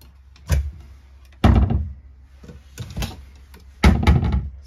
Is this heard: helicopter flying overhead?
no